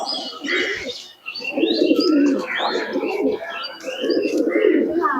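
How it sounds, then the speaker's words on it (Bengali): Teddy pigeons kept for sale coo steadily and close by, with soft overlapping throaty calls and a few chirps running throughout, and a faint voice occasionally underneath. "সুন্দর কোয়ালিটির কবুতর আছে দেখুন"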